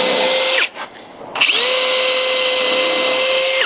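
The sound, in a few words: power drill with countersink bit drilling holes in timber window frame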